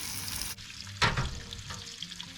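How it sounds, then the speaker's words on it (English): Lobster sizzles and fries in a hot pan, a steady crackling hiss broken by a sharp burst of spitting about halfway, close and moderately loud with no talking. "Get that sizzling away."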